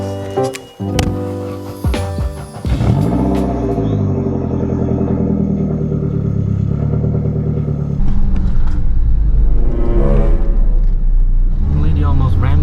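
A Saab 900 Turbo with a no-boost fault pulls hard in third gear at wide open throttle, its engine droning loud and close with a steady rising tone and a brief gear change near the start.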